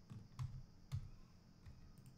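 A few quiet clicks of keys on a computer keyboard while a shortcut is entered in Blender 2.8, spaced irregularly and faint.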